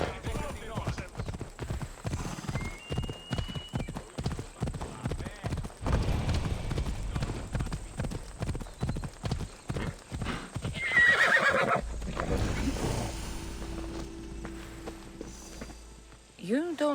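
Horse hooves clip-clop steadily at a walking pace, then a horse neighs loudly and close, in the ancient Greek open-world game Assassin's Creed Odyssey, with speech in the scene.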